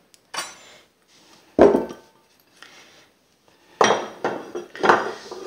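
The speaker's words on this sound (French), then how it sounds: "on va d'abord mettre notre farine" Flour is added to a mixing bowl while making a lemon cake, heard as several short, fairly close clinks and scrapes of a utensil against the bowl, separated by quiet gaps.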